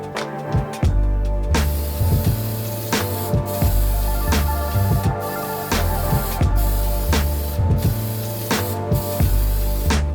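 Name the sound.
spray can applying flat clear coat to car interior parts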